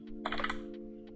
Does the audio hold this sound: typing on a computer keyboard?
yes